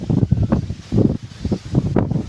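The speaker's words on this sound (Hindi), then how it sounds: "ये देखें, तेज़ तेज़ हवा चल रही है।" Strong gusts of wind blow through swaying trees in a village just before rain. The gusts come in loud, rough surges that buffet the microphone close up, with a rumbling rush and no talk.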